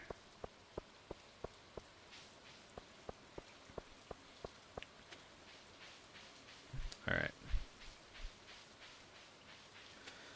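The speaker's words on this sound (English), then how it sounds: "The rain effects are like putting me to sleep here." Game rain in Stardew Valley falls as a soft, steady hiss over regular ticking drops, with a short burst of louder muffled activity near the end. No one talks.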